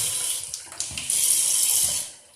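Water runs from a tap into a bathroom sink in a steady, close hissing stream that continues evenly and then tapers off, with no voices.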